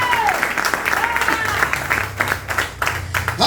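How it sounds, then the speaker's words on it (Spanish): Church congregation clapping during a sermon, a steady wash of applause with a voice talking over it throughout. "Dale fuerte ese aplauso,"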